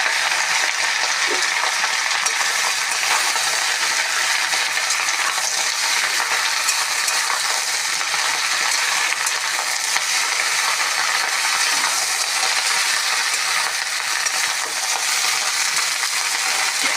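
Gourd leaves and stems frying in a pan with oil, dried red chili and nigella seeds, a steady bright sizzle with faint stirring scrapes, continuous and close, no talk.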